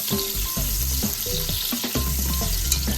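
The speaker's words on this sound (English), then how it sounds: "We're gonna fry up the onions" Onions sautéing in a pot for Trini chicken foot soup give a loud, steady sizzle and crackle, broken by several scrapes and clunks of stirring near the microphone, with no talk.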